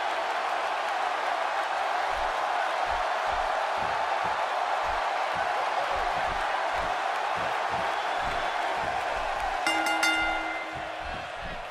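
A steady, dense roar of an arena crowd fills a wrestling video game match, continuous cheering at constant loudness with a faint rhythmic thumping underneath and a brief bright chime near the end.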